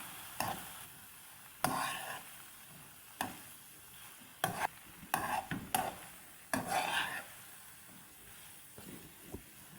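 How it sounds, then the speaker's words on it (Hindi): Noodles with green chillies tossed in a pan, heard as several separate bursts of stirring and scraping with a faint sizzle and hiss between them. "हरी मिर्ची डाल देंगे, मिक्स कर लेंगे इस तरह।"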